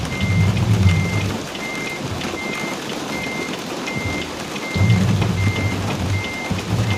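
A truck with a trailer backs up in American Truck Simulator, Tesla Semi mod, its reversing alarm beeping in a steady, evenly spaced series over a low engine rumble that swells and fades.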